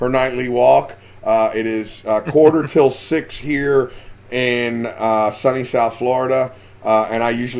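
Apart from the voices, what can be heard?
No distinct noise like a dog, phone or traffic.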